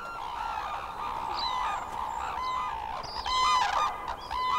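Manchurian cranes give loud, honking bugle-like calls, several birds overlapping in repeated bursts against a steady outdoor background.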